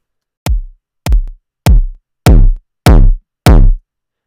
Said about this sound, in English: what you hear there is when I turn it up really loud, the distortion is nasty.